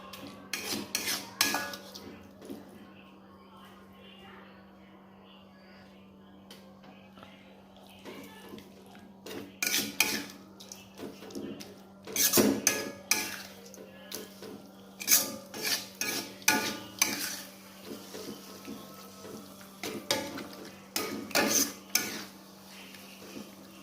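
Chili balado sauce is stirred and sautéed in a pan, with frequent close metallic scrapes of a utensil against cookware in irregular bursts over a steady low hum, growing busier toward the end and with no talk.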